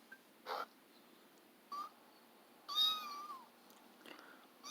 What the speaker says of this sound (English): I guess it's a cat there.